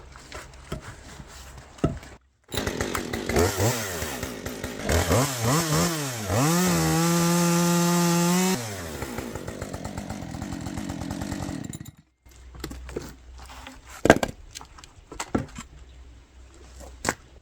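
A chainsaw engine revs up and bogs down under load, with a long sustained high-RPM whine while it cuts through wood. It then drops back to idle and gives intermittent clattering bursts, loud and close.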